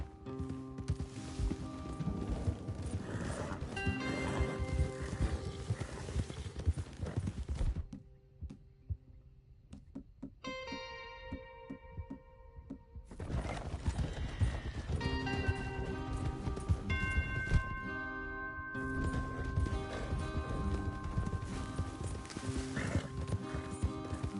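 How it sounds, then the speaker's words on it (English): Horse hooves clip-clop in the video game Red Dead Redemption 2, a rhythmic run of hoofbeats layered under a tonal musical score, briefly thinning to a sparse passage midway before the galloping texture and music return, with a whinny mixed in. "Your horse is here"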